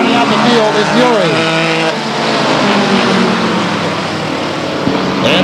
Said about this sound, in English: And so Haw seems to be the fast car down the backstretch he'll head.